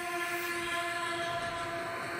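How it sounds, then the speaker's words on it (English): A Roblox train rolls past a crossing in the game, with a sustained horn over a steady rumble of rolling wheels and no talking. "Oh, there's another train coming!"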